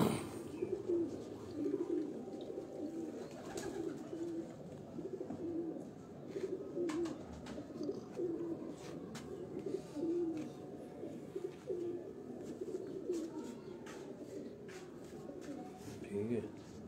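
Pipla bloodline pigeons on a rooftop loft coo in a steady, continuous low warble at close range, with people talking throughout.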